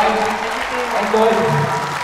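An audience at a Vietnamese reality dating show claps for a newly matched couple, a brief steady patter of applause with voices talking over it.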